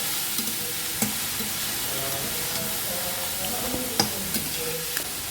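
Vegetables for thoran sizzle in a pan as turmeric powder is stirred through, a steady hiss of frying with occasional sharp spoon knocks and scrapes, no voices.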